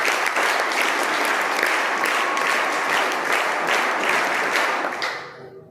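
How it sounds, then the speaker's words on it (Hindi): Crowd applause for an honoured guest at a Sainik School gathering in Washim, dense sustained clapping from many hands throughout before tapering off at the very end. "इनके लिए ताली होना चाहिए"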